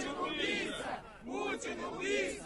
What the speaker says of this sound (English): They're chanting Putin is a killer on the ground.